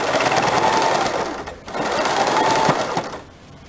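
A sewing machine stitches a neck strip onto a blouse neckline in two steady whirring runs with a brief pause between them, close and loud, and no talking.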